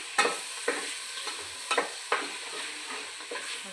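Green chillies, five of them, fry and get stirred in a pan for a Tamil kuska rice dish: soft scraping stir strokes land every second or so over a faint, steady sizzle.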